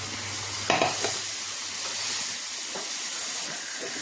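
Ground tomato paste hits a hot pan for a tomato kuruma and sizzles steadily, a close, continuous hiss with a few soft stirring scrapes early on and no talking.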